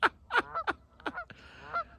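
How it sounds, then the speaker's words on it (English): Canada geese honk repeatedly nearby, a quick run of loud, nasal calls tumbling over one another in an uneven rhythm. "Oh, we love Canadian geese."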